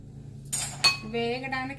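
A metal kadai is set down on a home kitchen stove while ginger chutney is being prepared: two quick clanks, then a sustained metallic ring that fades over about a second.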